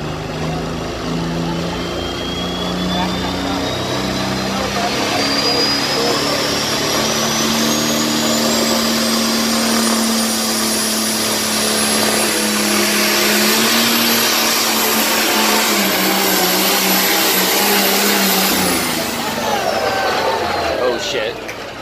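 Pulling tractor at a fair tractor and truck pull, its engine roaring loud and steady close by with a rising high whine building until something in the motor lets go near the end, while a voice talks over it.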